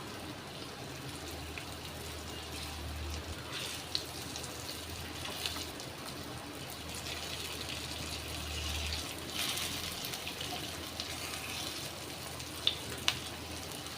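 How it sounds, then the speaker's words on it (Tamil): Poha cutlets fry in a pan over medium heat, a soft continuous sizzle and bubbling oil with a few faint clicks, steady and low throughout. "இந்த சைடு மீடியம் ஹீட்டில் வச்சு ரெண்டு நிமிஷம் பொரிய விடலாம்"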